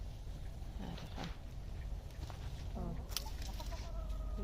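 Chickens cluck in a wooden coop built from firewood logs, where hens climb up to lay eggs. The soft, scattered clucks and calls come from close by over a steady low background hum.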